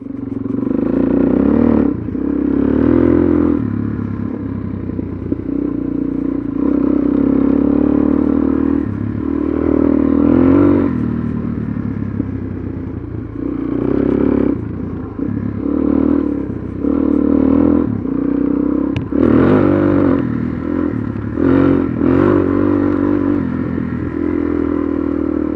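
A Suzuki DRZ400SM motorcycle engine drones loudly while riding, rising and falling in repeated rev swells with gear changes and steady wind and road rumble throughout.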